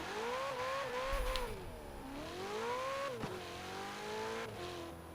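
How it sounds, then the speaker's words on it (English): A 2018 Ferrari Portofino V8 in Forza Horizon 4 revs hard through repeated rising and falling sweeps, climbing through gears with brief dips between shifts, loud and steady with no voices over it. "That's a Ferrari V8, alright."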